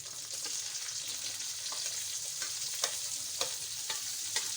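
Bell pepper frying in a pan over browned ingredients, a steady close sizzle with occasional soft stirring scrapes and no talk.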